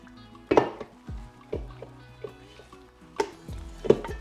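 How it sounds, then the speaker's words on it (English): A bowl is handled while being coated with oil for whole wheat bread dough, giving scattered clinks and knocks with quiet pauses between, close up and fairly soft. "I'm just going to add some oil to this bowl and make sure that I cover everything"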